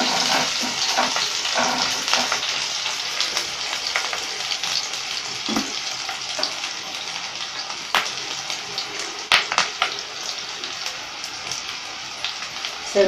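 Green chillies sautéing in hot oil in a pan for cauliflower Manchurian, a steady dense sizzle and crackle running throughout with occasional sharper pops and stirring scrapes, fairly loud and close, with no talking.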